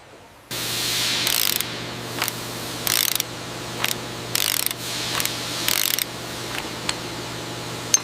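A ratchet wrench tightens a joint on the Blue Bird school bus assembly line in a series of sharp, close clicking bursts, with a steady factory hum underneath.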